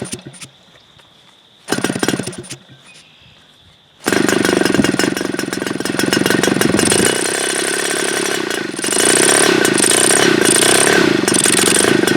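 Super Tigre G4500 gas model engine being test-started: a few short bursts of cranking, then it catches and runs loud and steady, revving at one point, close by and alone.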